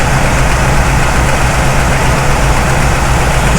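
A 1974 Chevrolet C10 engine idling with the idle raised, a loud, steady, close rumble with constant low throb and no talk over it.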